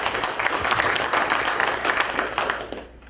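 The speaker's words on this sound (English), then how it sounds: "Can we have a round of applause for Lullabot?" Conference attendees at DrupalCon Asia 2016 give a brief round of clapping during a technical talk, the claps scattered and fairly close before quickly dying away at the end.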